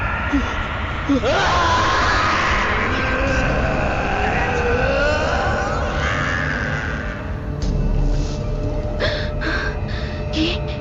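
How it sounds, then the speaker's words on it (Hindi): Drawn-out screams and wailing cries ring through a forest in a horror audio drama, loud and reverberant over a low rumbling bed, with shrieking rising and falling for several seconds before fading into distant echoes. "वो चीख जंगल से होते हुए पास की पहाड़ी पे एक होटल के कमरे की खिड़की से टकराई"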